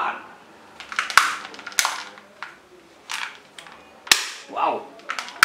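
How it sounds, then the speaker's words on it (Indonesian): A toy pop gun fired repeatedly, giving sharp, close snapping pops at irregular intervals with short quiet gaps between them. "pop gun"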